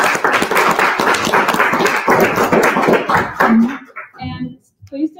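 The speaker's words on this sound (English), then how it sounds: "So let's give a round of applause." Audience applause at a heritage night lecture on the Battle of Ludlow: a few seconds of loud, dense clapping that thins out and stops, with some voices as it ends.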